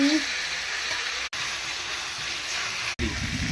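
Chicken meat being braised (kosha) in oil gives off a steady, broad sizzle that runs almost the whole time, broken by two brief dropouts, with no talking.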